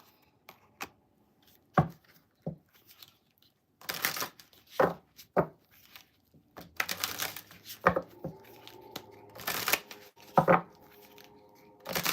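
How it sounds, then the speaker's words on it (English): Angel cards being shuffled by hand, a run of crisp riffling bursts and soft card slaps spread through a quiet stretch, fairly close and unaccompanied by talk. "we are using our angel cards now"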